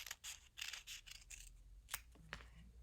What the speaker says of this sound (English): before I fuse it to the fabric, I can just go and cut out the center